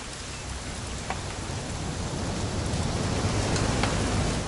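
Steady rain falling outdoors in the game What Remains of Edith Finch, a loud, even wash of rain noise with a few faint drips standing out, no voices.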